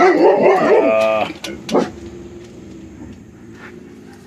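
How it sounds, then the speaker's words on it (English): A small dog barks from around a corner outdoors: a few short, sharp yips in quick succession, fairly close and distinct against a quiet morning background. "There's a little dog around the corner, man."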